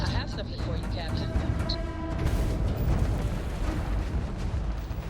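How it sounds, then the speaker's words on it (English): Gunfire hitting a prototype ship in Starfield, with heavy continuous rumbling blasts and crackling impacts spread over several seconds, loud and dense, with a speaking voice mixed in. "They're shooting the prototype."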